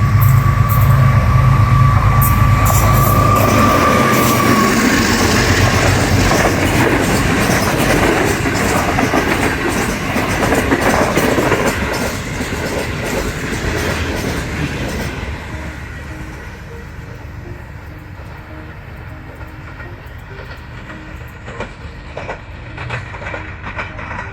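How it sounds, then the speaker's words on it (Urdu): Pakistan Railways' luxury Green Line train passes Mandra station in the evening, a loud, close rumble of rolling wagons with a brief horn-like tone early on, fading gradually as the train recedes; no speech. "وہ ہے پاکستان کی گرین لائن اور پاکستان ریلوے کی لگژری گرین ٹرین"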